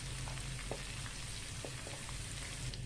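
Cumin seeds and ginger garlic paste fry in hot oil for kadhi pakora, producing a dense, even sizzle with a few faint pops. The sound is steady and close, with no talking.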